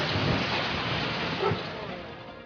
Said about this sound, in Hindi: हिमाचल के मंडी में बारिश का कहर जारी है।